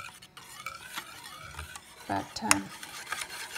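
Flan ingredients are stirred by hand in a bowl, with a steady scraping and swishing of a utensil against the sides, moderately close, plus a few brief clinks, and a voice speaks one short word.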